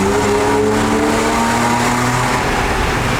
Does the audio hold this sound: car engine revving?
yes